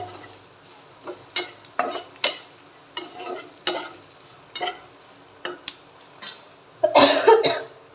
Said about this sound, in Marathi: आता ह्याला पण दोन ते तीन मिनटं तेलावर परतून घ्यायचं आहे मिडियम फ्लेमवर